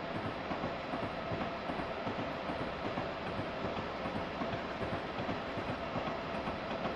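An Amtrak Northeast Regional train rolls along the rails between New York and New Haven, a steady loud rumble with rhythmic clickety-clack of wheels heard from inside the car, no talking.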